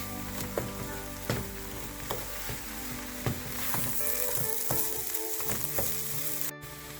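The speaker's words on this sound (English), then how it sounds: "Now we have scrambled the egg inside the cabbage and mix the cabbage together." Shredded cabbage and scrambled egg stir-fry for Kerala cabbage thoran with a steady close sizzle, broken by repeated scraping knocks of a spoon against the pan.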